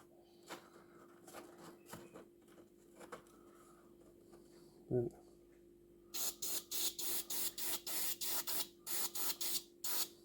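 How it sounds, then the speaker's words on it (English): Short bursts from an airbrush spray gun turned right down, dust-coating tiny plastic parts for a Russian Navy Project 955 Dolgoruky submarine model; a dozen close, rhythmic hissing puffs follow quieter handling noise. "I'm turning the gun all the way down so that you can actually get some colour on these tiny little pieces"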